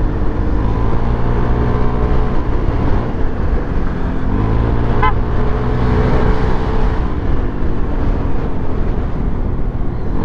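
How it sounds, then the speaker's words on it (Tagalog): Heavy trucks roll along a road in morning traffic in Timonan, Quezon, making a steady, loud, close engine rumble with wind buffeting throughout. "Dami lang talagang kasabay na truck dito pag umaga eh."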